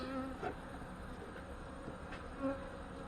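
Honey bees buzz steadily around an open hive during a colony wellness check, a close continuous droning hum with a few individual bees passing louder near the ear.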